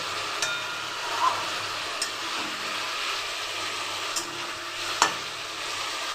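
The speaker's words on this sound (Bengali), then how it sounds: "ভেজে রাখা আলুগুলো দিয়ে এবার মশলাটাকে ভালো করে কষাতে হবে" Fried potatoes are stirred with spice paste in a pan, with a steady close sizzle and occasional light taps of the spoon against the pan.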